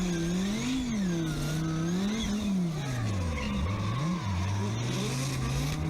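A V10 car drifting on the handbrake, engine howling steadily as its pitch rises and dips, with tires skidding and squealing throughout; loud and close, continuous, with no talk.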